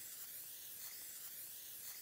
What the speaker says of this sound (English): After coating them with cooking spray